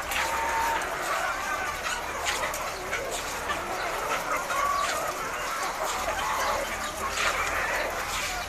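White layer hens on a poultry farm cluck continuously in a dense overlapping chorus, loud and close, with scattered sharper calls and little talk.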